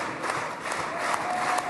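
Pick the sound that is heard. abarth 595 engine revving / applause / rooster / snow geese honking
applause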